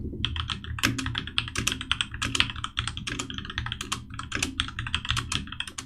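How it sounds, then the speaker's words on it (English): Rapid, clicky keystrokes on a HyperX Alloy Origins mechanical keyboard, steady and close, with bursts of presses and a few louder taps, no voices. "Ah yes, the wonderful sound of typing on a mechanical keyboard."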